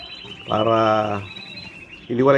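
Small Gouldian finches give buzzy, nasal chirps up close, one drawn-out call followed by another starting near the end, over faint background twittering.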